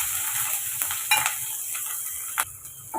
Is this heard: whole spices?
yes